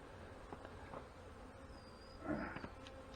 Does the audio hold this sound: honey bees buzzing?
yes